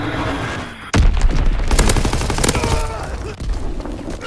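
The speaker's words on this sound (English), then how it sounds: "Dropping Fritz X bomb." A Fritz X guided bomb explodes in the World War II shooter Call of Duty WW2 with a sudden loud blast, then a dense crackle of gunfire and rumbling battle noise continuing across the clip.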